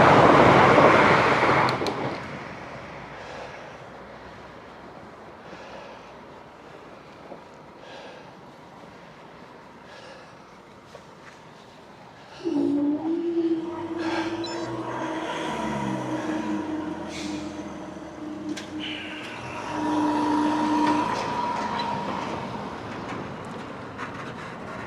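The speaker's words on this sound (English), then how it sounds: "Here come the train." A train runs along a line beside a cycle path, loud and near as it passes with a steady rumble and rising grinding tones, after a quieter stretch of distant ambient noise.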